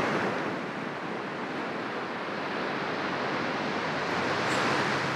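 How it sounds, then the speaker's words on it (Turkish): Ocean waves hitting the beach at Crystal Cove on a sunny February day, a dense steady roar of surf with some wind noise, loud and continuous with no voices. "Aslında dalgaların vurması ne kadar sert bir hareket değil mi?"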